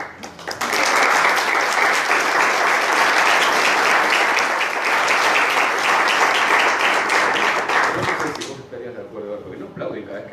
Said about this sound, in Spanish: Aplauden cada vez que hablemos porque